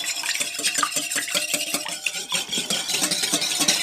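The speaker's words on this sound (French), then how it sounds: "Et on va fouetter tout ça." A whisk beats egg with salt in a bowl for eggplant fritter batter, giving fast, steady rhythmic clicking and scraping strokes, close and continuous with no talk.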